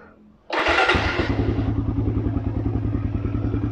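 A 2015 Suzuki Satria FU facelift motorcycle in very good condition fires up after a brief quiet moment, then settles into a close, even idle with a regular pulsing beat.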